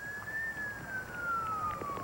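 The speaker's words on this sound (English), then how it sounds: "You could hear sirens over the rain" A single emergency vehicle siren wails in a slow falling sweep, distant and steady over a constant wash of rain in the aftermath of a tornado, with no voices.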